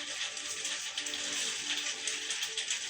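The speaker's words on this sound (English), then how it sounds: "here's the rain" Steady rain falling outdoors, a dense even hiss of drops pattering on surfaces, constant and fairly close with no talk.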